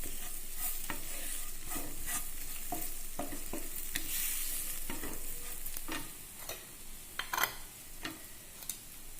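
Onions with coriander powder are stirred in a frying pan, a steady close sizzle broken by regular scraping and tapping strokes of the spoon, the frying hiss easing toward the end while sharper clicks continue.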